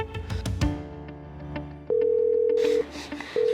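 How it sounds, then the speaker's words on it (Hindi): Telephone being dialed: a few soft clicks and tones, then a steady dial or ring tone sounds, stops briefly, and resumes; close and clear with no talking. "उसको फोन मिला"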